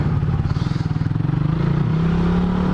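Suzuki Raider 150cc underbone motorcycle riding along, a steady close engine drone with a rising pitch as it pulls, and rattly clatter over the top.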